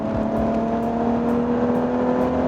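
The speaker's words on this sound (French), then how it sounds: "Puis il y a le moteur qui ronronne derrière," A BMW Z4 roadster's six-cylinder engine hums steadily under acceleration, a smooth sustained drone with a slowly rising tone heard from inside the car, with no talking.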